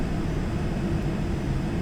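A freeware flight simulator airplane engine drones steadily in flight, a constant, loud, low rumbling hum with no breaks.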